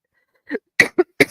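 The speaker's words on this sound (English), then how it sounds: "my eyes are watering because I cough so hard" Several harsh coughs in quick succession, close and loud, four short bursts with brief pauses between them.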